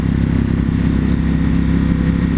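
A 2021 Ducati Panigale V4S sportbike engine gives a loud, steady, close grumble at low revs, a continuous deep throb with a faint clattery edge and no voices.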